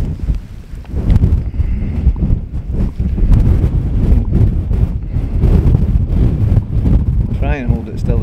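Strong wind on the summit of Goatfell, Isle of Arran, buffets the microphone in loud, continuous gusts, with a rumbling low roar and a faint whistling note near the end.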